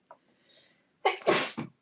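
A single loud, close human sneeze, with a faint sharp intake of breath before the burst, heard alone in a quiet room.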